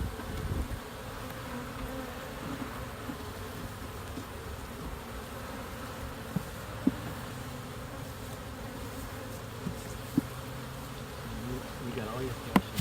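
Honeybees buzzing steadily around a newly installed hive, a continuous close hum with a few faint knocks, lasting throughout.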